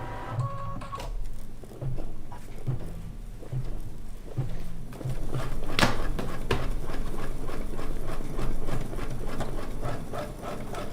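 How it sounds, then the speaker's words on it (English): An embroidery sewing machine runs a basting stitch around a quilt design, first with a few slow, spaced thumps, then a loud, steady fast mechanical whirring and clatter close by. "first I'm going to do a basting stitch around the entire design"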